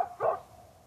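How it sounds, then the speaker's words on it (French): A single short dog bark or yelp from a female dog running off through a hillside park area, heard once near the start and then fading into quiet outdoor ambience. "La chienne est partie en aboyant sur la droite, elle a sauté le parc"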